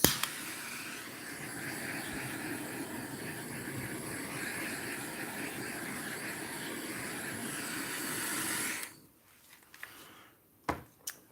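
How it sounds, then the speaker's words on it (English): A torch hisses in a steady broadband rush over an acrylic paint pour mixed with silicone on perspex, continuing evenly before cutting off abruptly, followed by near silence with a few faint clicks. "now we'll torch it and see what comes up with the silicone"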